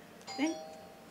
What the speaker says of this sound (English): And that's the doorbell.